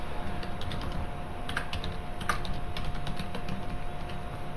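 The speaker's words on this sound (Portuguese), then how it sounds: "Digitar minha senha." A password being typed on a computer keyboard, a steady run of quick, close key clicks with no talking.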